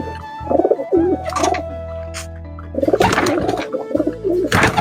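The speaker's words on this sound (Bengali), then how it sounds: "এখন কিন্তু আমার ছোট খোপেরই চর্চা গাইজ আমার কাছে এখন আপাতত, দেখতে পাচ্ছ পায়রা" Pigeons in a small loft cooing in repeated soft, throaty bursts, close by, with pauses between calls and other tonal sounds in the background.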